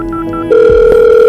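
A telephone rings for an outgoing call to a pupil's home over a school fee matter: a soft intermittent tone first, then a loud steady electronic ringing tone sustained for most of the short stretch, with no talking.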